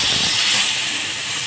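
Chopped tomatoes tipped into hot fried masala for a soyabean curry give a loud, steady sizzling hiss that holds throughout the short moment.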